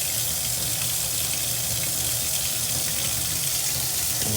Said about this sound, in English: So what I'll do is get the hot water running.